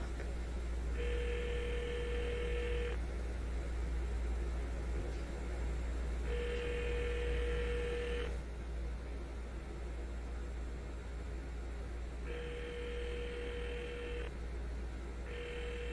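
Electronic phone ringing in the horror video game Joyride, repeated ring bursts in a steady pattern over a continuous low hum and hiss, going unanswered with no voices.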